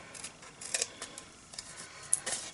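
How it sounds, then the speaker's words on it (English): Scissors make a few quiet, quick snips as they trim paper at the corner of a small flower gift box, with faint handling noises between the cuts. "I'm just going to cut off a little bit here."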